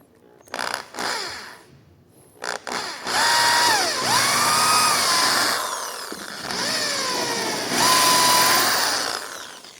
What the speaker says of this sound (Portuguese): Então vou parafusar aqui para vocês verem.